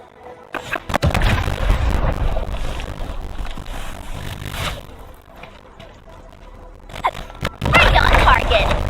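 A big explosion in the video game Arknights: Endfield booms loudly across several seconds with crunching, rumbling blasts and a second heavy burst near the end.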